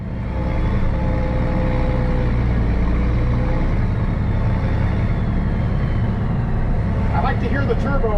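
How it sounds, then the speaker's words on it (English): A tractor pulling a disc chisel in second gear runs steadily under load, a loud, close, continuous engine drone with a turbo whine layered on top and a brief higher-pitched burst near the end. "To hear the turbo on this thing."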